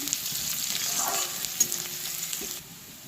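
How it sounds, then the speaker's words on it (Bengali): Onion, garlic and green chili frying in oil in a wok, a steady soft sizzle with faint stirring clinks, fairly quiet and without any talk. "কড়াতে তেল দিয়ে দিয়েছি, দিয়ে দিলাম পেঁয়াজ, রসুন আর কাঁচা লঙ্কা দিয়ে দিলাম"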